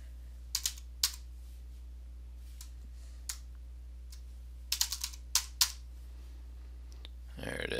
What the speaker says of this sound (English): I started typing in the word refrigerant.